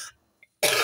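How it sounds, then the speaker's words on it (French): A single sharp cough bursts out close and loud after a brief near-silence. "Ah je tousse encore."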